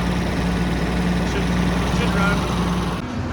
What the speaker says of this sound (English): The tractor's been running for 2 hours